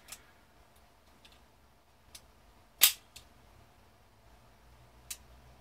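A Ruger Mark III Hunter pistol fitted with a Volquartsen accurizing kit is dry fired. One sharp, crisp trigger click stands out in the middle, with a few fainter ticks scattered around it in otherwise quiet surroundings.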